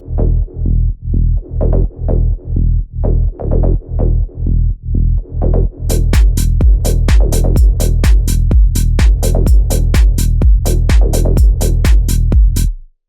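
A four-on-the-floor tech house kick plays alone at first, steady and punchy, then layered basses join in with the kick for a dense, loud, pumping sidechained groove with no talking.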